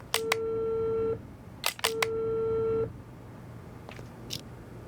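A telephone call signal in the audio detective game Unheard: two long electronic ring tones, each opened by clicks, then faint clicks and a brief high beep, with no talking.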